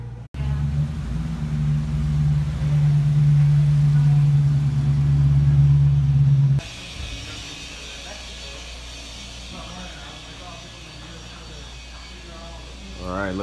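A Dodge Challenger being driven back in rumbles with a loud, low, steady engine drone for several seconds, then drops to a quieter idle and road noise while people talk nearby.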